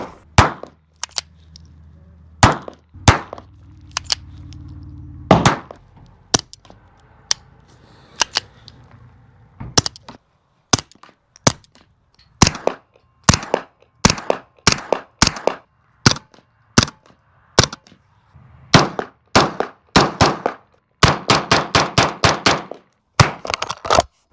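Suppressed gunshots from subsonic ammunition, including .38 rounds, crack out as sharp, loud reports, first spaced apart and then in quicker strings, with a dense rapid burst near the end.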